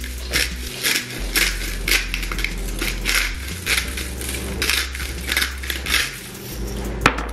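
A salt grinder crunches in repeated gritty bursts over butternut squash, near and fairly loud, with a brief sharp click near the end and no talking.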